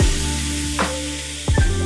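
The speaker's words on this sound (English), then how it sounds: "All right, get this meat browned." Meat browns in a pan with Wagyu tallow for vegetable beef soup, giving a steady close sizzle with a few brief swooshing scrapes as it is stirred.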